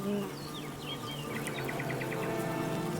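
Honeybees at a hive entrance before winter, a continuous insect buzz with a few faint bird calls and chirps drifting over it in the background.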